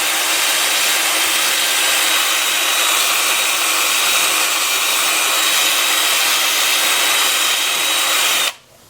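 A 2-inch sanding disc grinds against the edge of a turned wooden ring dish, making a loud, steady whirring rasp that holds without a break for about eight seconds and then cuts off abruptly.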